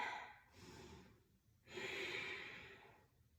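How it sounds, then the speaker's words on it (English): Slow, deep Ujjayi yoga breathing, a long breathy inhale followed by a fuller, hissing exhale, close and soft in an otherwise quiet room. "Deep Ujjayi breaths, send it in."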